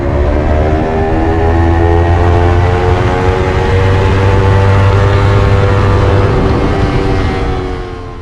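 Onboard a 350 SuperSport racing motorcycle at Thunderhill, the engine screams loud and close, its rising whine steady through the run and easing slightly near the end.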